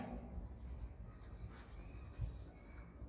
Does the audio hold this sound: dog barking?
no